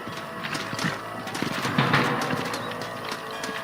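Horses in the video game Red Dead Redemption clop along at close range, with hoof beats and tack rattle over a steady game background.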